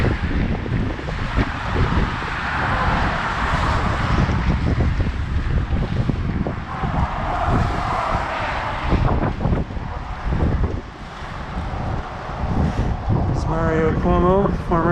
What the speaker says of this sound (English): You might hear the wind, it's picking up.